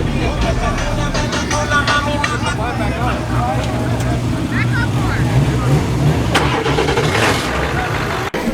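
Car engine starting and idling at a nighttime car meet called Mobbed Mondayz, with a steady low rumble throughout, crowd chatter and other cars around, and voices talking over it.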